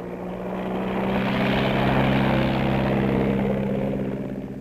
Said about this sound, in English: General Mark Clark takes off in his personal plane from the city's seafront